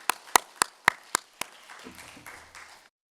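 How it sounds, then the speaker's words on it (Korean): Sparse hand claps from a church congregation at a Sunday worship service, six or seven sharp separate claps in an uneven rhythm, fading into low murmuring and faint room sounds. "하나님께 영광의 박수 올리겠습니다"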